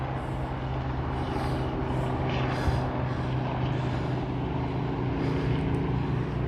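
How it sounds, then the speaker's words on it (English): A rescue helicopter drones overhead with a steady, low rotor throb and engine whine, holding level at moderate loudness throughout. "There goes the rescue helicopter."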